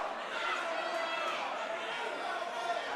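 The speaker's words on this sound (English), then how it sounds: "he's got the crowd behind him right now chanting Salvador" A packed arena crowd at a caged fight roars and chants a fighter's name, Salvador, as a steady, dense wall of massed voices without clear breaks.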